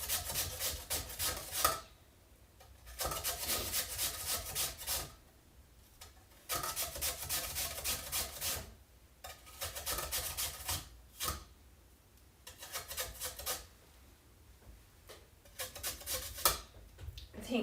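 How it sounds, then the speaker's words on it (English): Food being rubbed against a kitchen grater in a home kitchen, heard as repeated rasping strokes in bursts of a second or two with short pauses between, fairly close and steady. "I think Bex might be scared of my grater."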